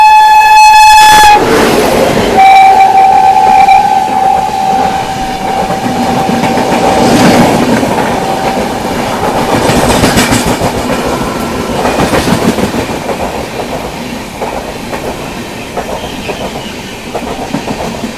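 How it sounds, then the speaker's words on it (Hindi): The Mangala Lakshadweep Express, running from Ernakulam to Hazrat Nizamuddin, sounds its horn loudly, then passes close by with a heavy rumble and a continuous clickety-clack of wheels over rail joints. "सामने से आ रही है आप लोगों की एर्नाकुलम से चलकर हज़रत निज़ामुद्दीन की ओर जाने वाली मंगला लक्षद्वीप एक्सप्रेस आती हुई"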